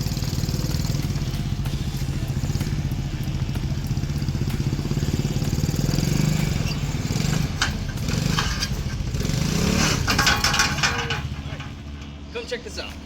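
A motorcycle engine runs steadily for several seconds, rumbling and revving a little, with people talking over it during loading onto a Black Widow double motorcycle carrier.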